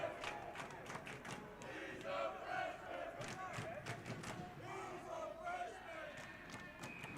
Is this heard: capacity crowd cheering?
yes